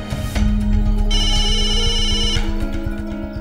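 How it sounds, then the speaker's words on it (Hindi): A phone ringtone chimes in a room during a Hindi crime drama scene: a steady electronic ringing tone that sounds for just over a second against background music. "आपका फोन बज रहा है।"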